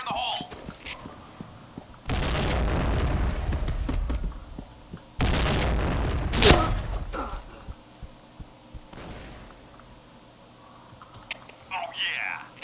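In the shooter game Point Blank, two loud, broad explosive bursts from grenades go off a few seconds apart, each a sustained roar that fades out, with softer game noise and faint voices around them.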